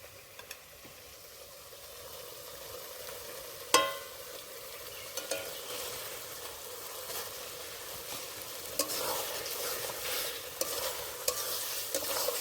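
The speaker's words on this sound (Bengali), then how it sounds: "বন্ধুরা এইবার খাসির তেলটা দিয়ে দেব" Jackfruit sizzles in mutton fat in a pan, a steady frying hiss with occasional stirring scrapes and one sharp clank, close and fairly quiet, with no talking.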